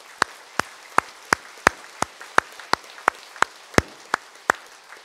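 A few sparse, evenly spaced claps from a church congregation at a pastor's installation service at Bupyeong Central Church, about a dozen sharp single hits in five seconds, moderately close with quiet room tone between.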